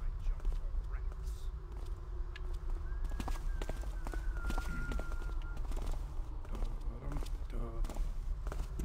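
Footsteps in the stealth game Thief, soft repeated steps sounding from within a building, quiet against low ambient rumble, with faint voices murmuring.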